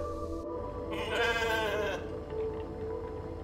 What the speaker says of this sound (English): So we now have a goat.